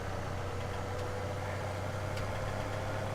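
A beefy tractor engine idles steadily in the video game Farming Simulator 17, a constant low rumbling drone with no change in pitch and no talking.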